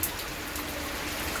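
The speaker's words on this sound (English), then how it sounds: "we can see the severe rain" Heavy rain pours outside an apartment complex in Manapakkam, Chennai, the day before a cyclone in December 2023, a dense, steady hiss of falling water with no voices.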